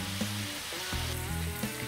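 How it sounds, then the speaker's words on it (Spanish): Rice frying in a pan with paprika and sofrito for Spanish arroz negro, a steady close sizzle and crackle with occasional stirring and no talking. "ahora vamos a echar ya el arroz y a freírlo"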